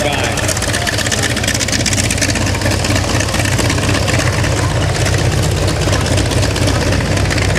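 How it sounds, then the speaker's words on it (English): A T-28 Trojan airplane taxiing by at an air show, its engine a loud continuous roar filling the whole stretch. "That is Ditto, the T-28 Trojan. Gotta love him taxiing by."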